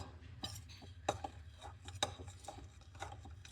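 A spoon stirs yogurt cake batter in a bowl by hand, giving irregular clinks and scrapes against the bowl with soft stirring between them. No one speaks.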